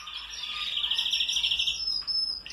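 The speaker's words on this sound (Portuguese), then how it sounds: "Vou mostrar pra vocês o canário Gloucester aí." A Gloucester canary chick gives a rapid run of high, thin chirps, close and clear against a quiet background, ending with a brief softer note.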